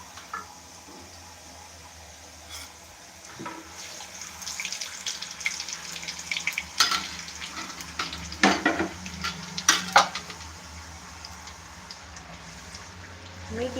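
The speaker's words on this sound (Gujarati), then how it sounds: "આપણે બીજો ખાખરા પણ તળી લઈએ" Besan khakhra frying in hot oil over a medium flame, giving a steady sizzle with scattered crackles and stirring clatter that builds louder toward the middle of the clip.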